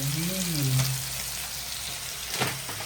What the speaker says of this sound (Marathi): इथे मस्तपैकी कोलंबी फ्राय बनते